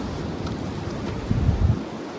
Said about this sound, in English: it's way too windy to do the work today.